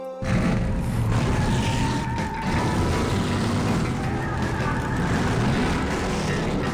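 Car driving in Grim Fandango, a steady, loud engine roar and rumble that runs almost unbroken from start to finish, with only a brief dip partway through.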